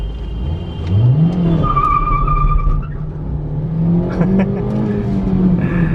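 A petrol car engine revs hard, its pitch climbing and then holding at a strained high drone, loud and close, with a brief squealing tone over it.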